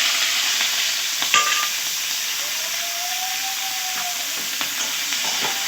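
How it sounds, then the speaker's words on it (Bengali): Chopped capsicum stir-fried in hot oil, a loud continuous sizzle and hiss up close with occasional scraping stirs and a faint whistling tone partway through. "ক্যাপসিকামগুলো 1 মিনিটের মতো নাড়াচাড়া করে নেব।"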